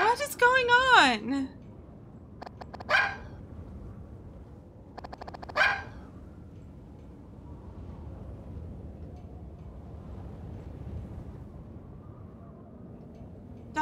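A cartoon dog barks in the video game Giraffe Town, with a few short yapping bursts near the start and two more isolated barks, while a person talks over low background game sound.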